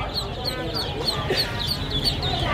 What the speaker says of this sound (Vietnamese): Mấy vịt còn dễ thương quá ha.